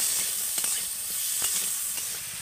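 Garlic and dried chillies fry in hot oil for an egg momo chilli sauce, giving a steady close sizzle with a few soft stirring clicks and no voices.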